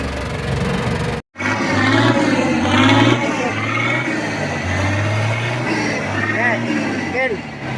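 A Mitsubishi 6D14 diesel engine from a Forward truck, running with its transfer case, a steady close rumble with people talking over it throughout.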